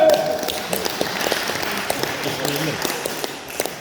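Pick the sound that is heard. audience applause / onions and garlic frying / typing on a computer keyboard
audience applause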